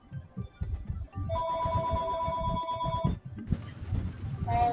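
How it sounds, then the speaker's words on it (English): A phone ringtone plays a steady melodic ring during a Kerbal Space Program live stream, sounding clearly for a couple of seconds over background noise and soft movement, then stopping as another brief tone starts. "Stupid phone."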